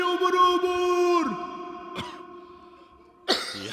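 A podcast guest makes a single cough or throat-clearing sound near the microphone, heavy and voiced with a drawn-out tone, in a spoken exchange with another short burst at the end.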